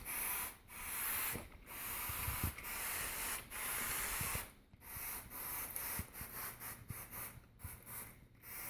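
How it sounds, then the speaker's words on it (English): Oil-OFF adhesive remover sprayed over road tar on a truck hood, a series of loud, close, sustained hissing bursts separated by brief pauses. "So let's spray it down."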